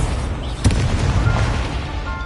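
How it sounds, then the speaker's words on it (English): Incendio fire spell cast in Hogwarts Legacy, a loud whooshing burst of flame with a deep boom partway through, over a dense, rumbling combat background with no speech. "Hold R2 button to activate your spell set and cast Incendio"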